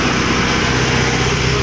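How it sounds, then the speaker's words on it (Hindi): A tractor engine runs while the tractor is driven: a loud, steady, close-up chugging with an even low pulse and no pauses. "अब मैं एक बार ट्रैक्टर आपको चला के दिखाऊंगा"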